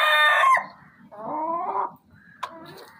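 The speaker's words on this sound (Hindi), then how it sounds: "ये गोल्डन मिश्री मुर्गा जी माशाल्लाह देखें ऊपर जाकर बैठ गया है" A Golden Misri rooster crows loudly and close by in a poultry setting, a long drawn-out crow followed by a shorter second call with a sharp accent near the end, with no talk.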